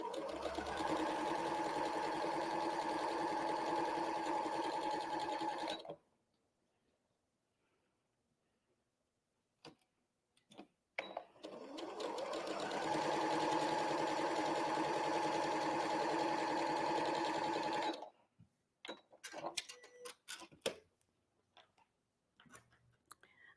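A sewing machine stitches continuously while chain piecing quilt pieces, with two long runs of steady, close, humming mechanical stitching separated by a quiet pause, followed by scattered handling clicks and rustles.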